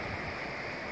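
A flowing river on a morning walk, a faint, steady rushing and babbling of water with no other sounds.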